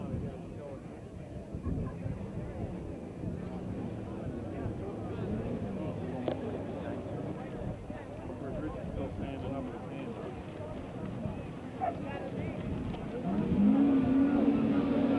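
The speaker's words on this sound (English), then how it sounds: "Sleds are off, a couple of them come off in the air, one of them backing down a little bit" Several racing snowmobiles, one a Yamaha Phazer, roar off the line at a 1987 Terryville event, a dense, continuous engine drone that rises toward the end under a steady announcer's commentary.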